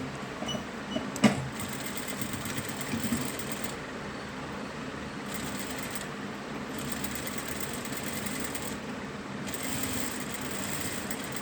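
A sewing machine stitches piping onto a blouse with an ordinary presser foot, a steady close mechanical whir that runs throughout with brief pauses and restarts and no talk over it.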